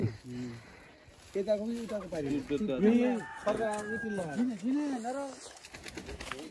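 Chickens cluck and a rooster crows repeatedly in a Nepal village, fairly close and clear, with voices talking faintly in the background.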